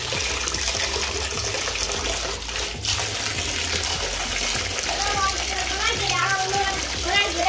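Water gushes from a tap into a home bathtub during an evening family routine, a steady loud rushing fill with faint voices and splashes toward the end.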